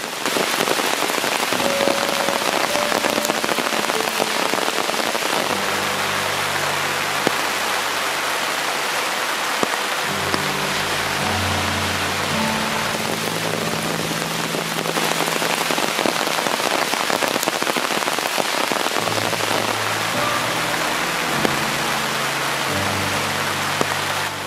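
Steady rain pours through a rainforest during a Royal Enfield Bullet ride, a dense continuous hiss of drops with a low engine hum underneath at times, no voices.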